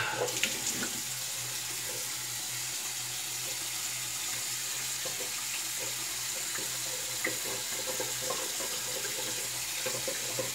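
Steady running water from a bathroom faucet during a post-shave rinse, a continuous close hiss with faint splashes and no talking.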